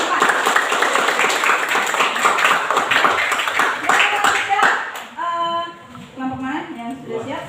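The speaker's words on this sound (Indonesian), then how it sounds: "Kita beri aplaus dulu untuk kelompok 4." A classroom applauds student group 4, with many hands clapping in a dense, steady burst for about five seconds before it stops and a voice begins speaking.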